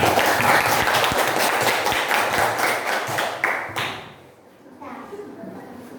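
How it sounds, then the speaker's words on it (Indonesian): Pupils in a sixth-grade elementary school classroom clap together in a dense, steady burst of applause for several seconds before it cuts off, leaving quieter room sound and faint voices. "Ya, tepuk tangan yang lainnya."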